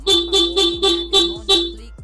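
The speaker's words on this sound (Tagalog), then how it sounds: "Try naman natin yung sa busina niya." A car horn upgraded with a PIAA horn honks six times in a quick, even series of short beeps, loud and close, with a brief pause between each.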